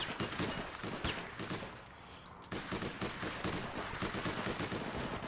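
Rapid police gunfire in the online shooter APB: dense, continuous bursts of loud shots with a brief lull in the middle before the firing resumes, close and aggressive.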